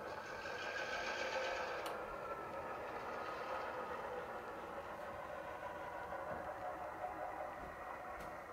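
A model railroad train moves DWC box cars across a Seaboard Central layout, giving a steady, close motor whir and rolling hum with faint clicks and no talk.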